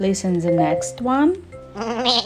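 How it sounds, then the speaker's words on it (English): A toy goat bleats in a few wavering cries, loud and close, with a person talking over and around it. "It's a sound of goat."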